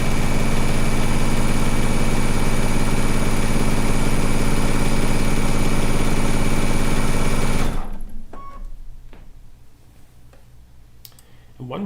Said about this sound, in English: one reason I like to piece a quilt top on a serger is this